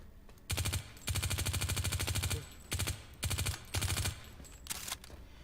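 Rapid automatic gunfire from a PDW weapon in the video game PlanetSide 2, loud close bursts of varying length, one long sustained burst followed by several shorter ones, with no talking.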